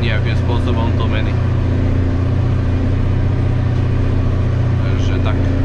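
A new 160-horsepower tractor engine roars steadily while ploughing, a loud continuous mid-low drone with a constant hum and faint mechanical rattle throughout, and someone talking over it.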